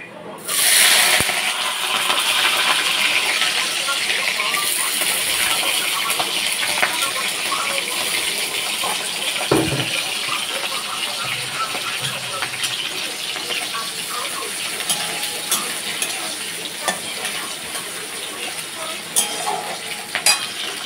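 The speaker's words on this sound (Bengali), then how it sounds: "তেল বসিয়ে দিয়েছি, আর এখানে এই যে খানিকটা পেঁয়াজ দিয়ে দেবো।" Onion frying in hot oil in a home kitchen: a loud, steady sizzle starts sharply and continues throughout, with occasional scraping and stirring clicks.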